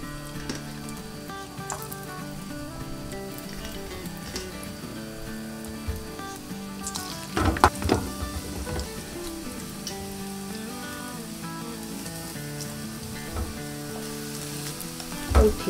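Burdock root grills in an oiled pan over low heat with a constant, gentle sizzle and crackle, broken by a few louder clatters and scrapes from handling along the way.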